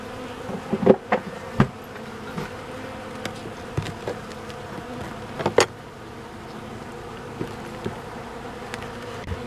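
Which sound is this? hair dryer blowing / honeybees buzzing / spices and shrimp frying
honeybees buzzing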